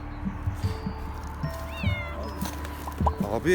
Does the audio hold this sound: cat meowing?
yes